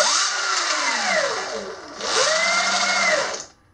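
Electric motor of a Sur Ron Light Bee e-bike with a freshly replaced rear brake pad, given throttle twice: a close, steady whine rising and falling in pitch each time, then cutting off, with a brief word spoken.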